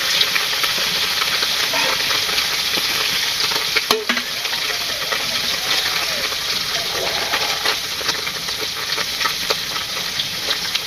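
Native koi fish frying in a pan of oil for a simple village meal, a steady loud sizzle and hiss running throughout with a brief clatter near the middle.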